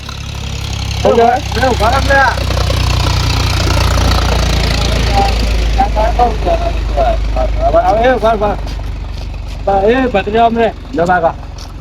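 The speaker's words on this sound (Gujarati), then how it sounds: "એને ટ્રેક્ટર કેવાય ટ્રેક્ટર" A low tractor engine rumbles steadily throughout while several people talk over it.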